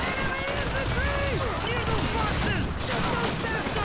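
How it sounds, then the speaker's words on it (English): Gunfire in the video game Call of Duty 2: a dense, continuous stretch of shots and battle noise across the whole clip, with a voice talking over it. "Oh, I'm getting shot."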